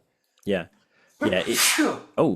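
A single short, sharp sneeze from a person, close and clear amid casual conversational talk, with brief spoken words before and after.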